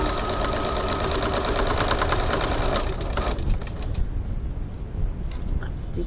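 A sewing machine stitches a 1 cm seam along the edge of a foam pocket for a crossbody bag, running steadily with a fast mechanical patter that fades near the end as the stitching stops.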